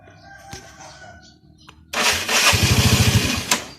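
A Fino scooter engine is started with the left brake lever squeezed, then catches and idles loudly nearby with a fast, steady chugging pulse, after quieter handling noises.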